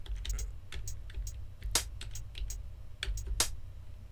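A closed hi-hat sample plays in music production software for a tech house groove, sharp short ticks in a sparse, loose rhythm over a low, quiet background hum.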